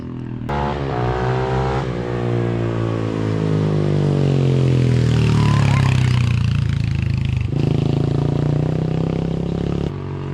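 A modified SMX250 motorcycle engine runs close by, its pitch rising and falling as it revs, loud and continuous with some rattling.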